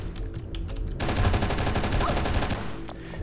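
Sustained rapid gunfire from a sniper in the video game Oni, a dense continuous burst that starts abruptly after a quieter second and keeps up loud and close for the rest of the stretch, with no talking.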